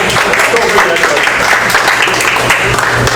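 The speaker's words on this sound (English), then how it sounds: "I appreciate the applause" A crowd at an empowerment event gives a loud, sustained round of applause, many hands clapping densely and evenly from start to finish.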